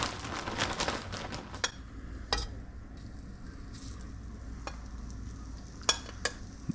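Deer tenderloin frying in butter in a pan, with a steady sizzle broken by sharp crackles and pops at irregular moments, close and fairly quiet.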